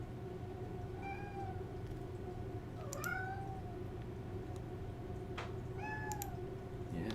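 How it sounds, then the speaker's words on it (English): A house cat meows repeatedly at a squirrel outside, several drawn-out chattering meows spread over a few seconds, fairly clear above a steady low background hum. "There's a squirrel out there and my cat's talking about it."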